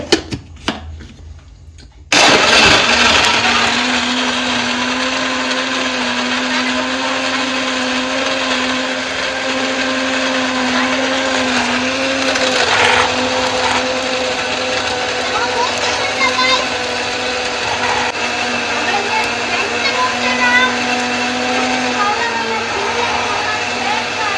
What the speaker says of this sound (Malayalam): ഇനി നമുക്ക് മിക്സിയിലൊന്ന് ഇത്തിരി അടിച്ചെടുക്കാം